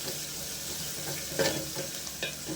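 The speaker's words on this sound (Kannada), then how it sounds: "ಇದನ್ನ ಸ್ವಲ್ಪ ಎಣ್ಣೆಯಾಗ ಹುರ್ಕೊಳ್ಬೇಕು" Rasam ingredients frying in a little oil over low heat, a constant close hiss and sizzle with a couple of brief stirring scrapes, no talking.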